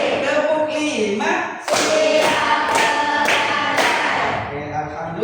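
Students in a classroom clap five times in unison, a steady run of bright, close claps between stretches of a teacher speaking.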